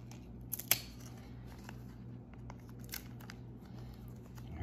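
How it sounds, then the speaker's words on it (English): A strip of tape torn and pressed onto a puppy DNA test, sharp crackling rips early on followed by faint sticky crinkles and taps over a low background hum. "I'm going to put a piece of tape on it."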